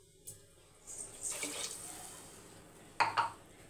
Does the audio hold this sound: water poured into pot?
yes